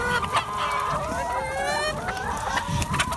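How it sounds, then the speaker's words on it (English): Chickens clucking and calling on a farm as they are moved toward a greenhouse, a busy, continuous flock chorus up close with overlapping squawks and warbling calls throughout. "Chickens are going to the greenhouse."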